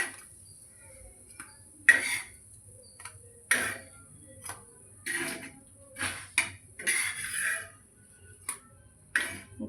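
Coin parathas slid from a pan onto a plate with the stove switched off: a run of scattered, sharp clinks and scrapes of utensil on metal and plate, close and fairly loud, separated by brief quiet gaps, with no talking.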